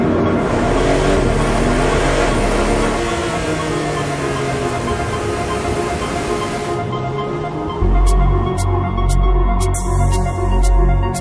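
A 2025 Porsche 911 sports car engine roars and revs loudly, pitch sweeping up and down through gear changes, then settles into a deeper, throbbing rumble near the end.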